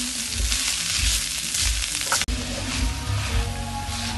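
Chicken frying in a pan with onion and garlic while being stirred, a steady loud sizzle throughout with a brief scrape or knock of the spoon midway.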